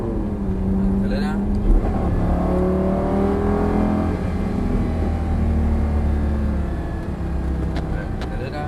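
A race car engine revs and accelerates on track, rising and falling through gear changes at close range, with someone talking over it almost throughout.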